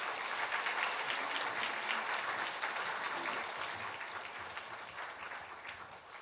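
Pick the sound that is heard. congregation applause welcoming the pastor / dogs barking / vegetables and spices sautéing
congregation applause welcoming the pastor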